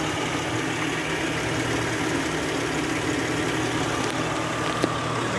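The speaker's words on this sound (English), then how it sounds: "Engine is quiet." A car engine idling quietly and smoothly, a steady even hum with a faint low vibration running unchanged throughout, heard alone without talk.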